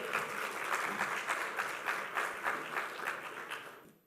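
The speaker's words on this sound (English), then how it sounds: "A round of applause, please, ladies and gentlemen" An audience at an honorary doctorate ceremony in Dubai claps steadily and briskly, with a rhythmic even pulse of hands that tapers off near the end.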